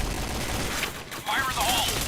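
Point Blank video game gunfire crackles in dense bursts under continuous game audio and chatter, with a brief dip near the middle before the shooting resumes loudly.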